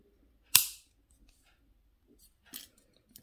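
Wire cutters snip through jewelry wire in one sharp, close click, followed a couple of seconds later by a fainter, softer clack of small metal handling, with quiet in between.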